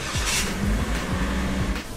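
A Toyota Rush idles steadily while warming up after a night of rain, a close, continuous low engine rumble with no talk.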